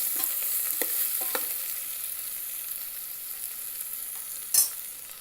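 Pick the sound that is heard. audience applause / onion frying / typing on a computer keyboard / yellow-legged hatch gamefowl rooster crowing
onion frying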